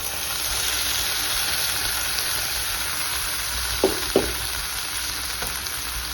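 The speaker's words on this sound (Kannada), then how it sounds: "ಆ್ಯಡ್ ಮಾಡ್ಕೊಂಡ್ಮೇಲೆ ನೀಟಾಗಿ ಮಿಕ್ಸ್ ಮಾಡಿ ಇದು ಹಸಿ ಮಸಾಲ ಎಲ್ಲ ಹೋಗೋ ತನಕ ಫ್ರೈ ಮಾಡ್ಕೊಳ್ಳಿ" Mint paste fries with eggs in a pan for a pudina egg fry, giving a steady soft sizzle with a couple of brief stirring clinks.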